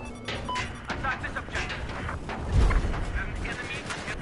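Rocket explosions and battle noise from Battlefield 4 gameplay, with scattered blasts and one heavy, deep boom near the middle, under voices talking.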